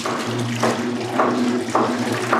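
A 1950s wringer washing machine squeezing water out of laundry in an Amish household, with a low motor hum and splashing water gushing in repeated surges about every half second.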